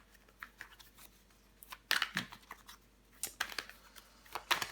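Tarot cards being handled and laid out on a table, giving a series of soft, close shuffling taps and flicks in an irregular rhythm, with no talk.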